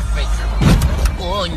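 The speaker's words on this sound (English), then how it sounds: "Miami's daily traffic." Daily road traffic in Miami, with passing cars and engine noise up close, a brief swell of motor rumble midway and faint voices mixed in.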